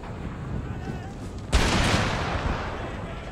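A cannon fires in Empire: Total War, one sharp loud boom partway through that rolls off into a long rumbling decay over a busy battlefield background.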